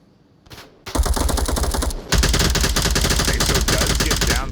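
Sustained automatic gunfire in the VR shooter Onward during a competitive match, long loud bursts of rapid shots after a brief quiet start, with a short pause between two streams of fire.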